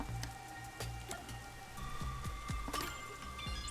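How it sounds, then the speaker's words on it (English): Rain falls steadily in the video game Rain Code, a soft continuous patter with scattered drop taps over a low hum of background music, moderately quiet and without voices. "The rain just won't stop, huh?"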